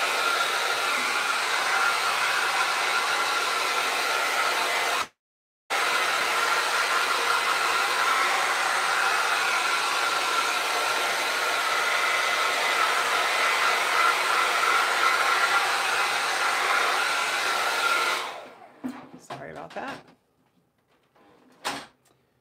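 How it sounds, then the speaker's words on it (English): A hair dryer blows with a steady whooshing roar while drying a mixed-media sketchbook page, cutting out briefly once, then switching off near the end, followed by a few faint clatters. "I'm gonna use my hair dryer quickly just to dry this off a bit"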